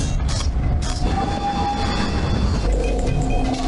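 Steady, loud railway rumble from a train standing in a station during a Sherlock Holmes period film scene, a continuous low mechanical drone with faint squeal-like tones, no talk over it.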